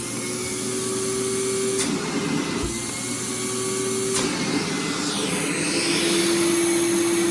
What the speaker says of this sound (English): I'm going to completely block off the